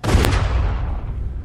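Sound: gunshot in The Walking Dead video game

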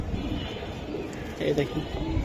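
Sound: silver pigeons cooing

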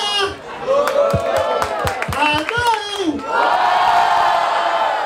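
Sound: crowd cheering loudly

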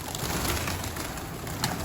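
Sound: pigeons

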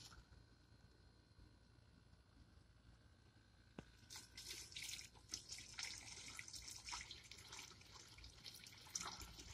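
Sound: clean water filling a Hart 20v sprayer

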